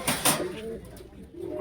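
Pigeons at a high-flyer pigeon shop in Boro Bazar, Khulna, cooing in short bursts close by, with soft shop background noise between calls.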